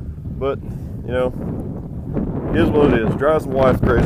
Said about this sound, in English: It's just windy out here.